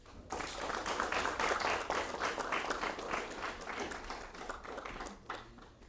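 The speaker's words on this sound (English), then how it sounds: "A round of applause, please." Audience applause at a national seminar's lamp-lighting ceremony: steady, dense clapping from a sizeable crowd, fairly loud and sustained throughout, with no talk over it.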